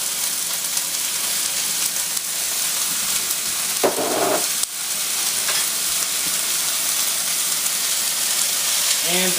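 Jalapeno, onion and garlic fry in a pan for a pork po' boy, giving a steady, dense sizzle and crackle that runs close and loud throughout, with a brief louder rustle midway.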